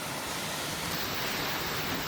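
A waterfall roars in a steady, dense wash of falling water, close and loud throughout with no pauses or voices.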